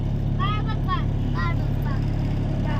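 A truck drives with passengers riding in the back. A steady low engine drone continues throughout while people's voices rise briefly above it.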